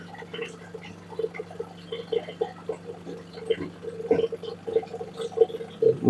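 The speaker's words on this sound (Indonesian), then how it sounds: "pompanya bergetar ya." A Sanken water dispenser pump vibrates while drawing water, a steady low hum running throughout with faint irregular ticks and rattles on top, close and fairly quiet.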